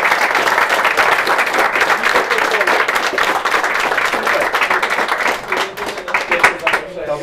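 An audience claps at a Star Wars-themed gaming tournament, with sustained, crisp applause throughout and a few voices briefly audible near the end as it tapers.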